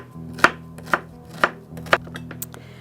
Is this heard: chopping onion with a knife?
yes